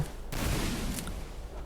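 Gunfire from the Free Fire battle-royale game in a custom headshot match, a burst of fused shots starting abruptly and sustaining as a dense, roaring barrage for over a second, fairly loud with no talk over it.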